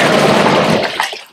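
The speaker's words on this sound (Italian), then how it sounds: "Siamo qui oggi nell'idromassaggio e fa anche le bolle" A whirlpool tub in a top-floor hotel suite churns with a dense, loud rush of bubbling water close by, which then cuts off and fades to quiet.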